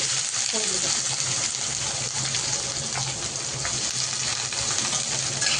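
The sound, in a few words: onion frying in oil with garlic and mustard seeds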